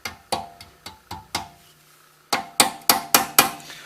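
Hammer blows on brake parts of an MK3 Jetta during a brake upgrade, five sharp metallic strikes at a steady rhythm, a pause, then five more louder, quicker hits, close and alone.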